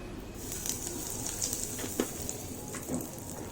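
Red chili and asafoetida sizzle in hot mustard oil in a pan, a steady, moderately quiet frying hiss with a few small pops and crackles.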